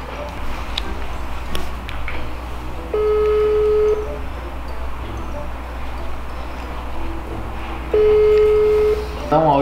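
An outgoing phone call placed from a home gives two long, steady ringback tones, each about a second or more, set apart by several seconds of quiet room noise.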